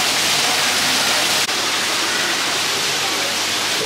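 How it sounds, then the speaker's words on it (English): A small waterfall splashes inside an indoor tropical rainforest, a loud, dense, steady rushing hiss of falling water heard close by, with one brief knock near the start. "Oh, there's a little waterfall here."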